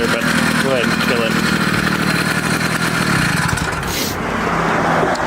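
A small motorized bicycle engine idles a little high, a steady close buzzing putter with a mechanical rattle that holds even throughout.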